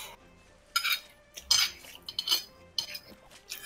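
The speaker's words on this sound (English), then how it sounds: "Now the sound of Voss eating." A character eating in the video game Monster Hunter: World, heard as several short crunching, clinking bursts that come irregularly at moderate loudness, with no talking.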